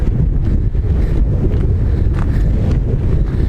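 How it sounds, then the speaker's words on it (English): Steady, heavy wind at Blacks Beach buffets the microphone, a loud low rumble with no pauses for the whole stretch. "It's a windy day."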